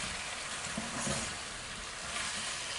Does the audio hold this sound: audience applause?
no